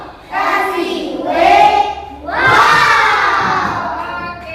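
Schoolchildren at an elementary school shout a loud group chant in three swelling bursts, their voices close and energetic with clapping mixed into the crowd noise.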